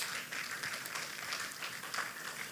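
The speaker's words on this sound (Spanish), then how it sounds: "Denle un aplauso a Jesús de Nazaret." Church audience giving a round of applause for Jesus of Nazareth during a Spanish sermon, a dense, steady patter of many hands clapping together at moderate volume, without speech.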